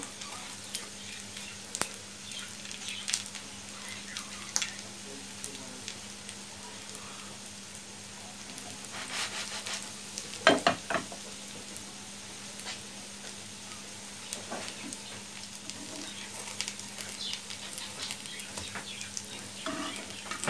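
Potato and egg kebabs shallow-fry in hot oil with a soft, steady sizzle, quiet and close, broken by a few sharper crackles and a clink near the middle.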